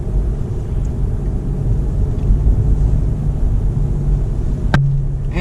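The BMW 640i accelerating, heard as a loud, continuous low engine rumble from inside the car that stays strong and steady throughout, with a sharp click near the end.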